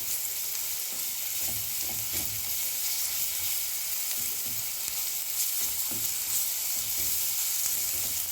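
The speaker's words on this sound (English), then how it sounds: "Now goes my ginger garlic, and I will stir it." Ginger and garlic frying and being stirred in a pan for a lamb mince dish, a steady bright sizzle with soft scraping stir strokes recurring throughout, close and alone.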